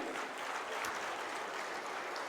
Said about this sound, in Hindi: उनके लिए भी एक बार आप सब लोग ताली बजाएं